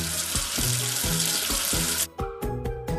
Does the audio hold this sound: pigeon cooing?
no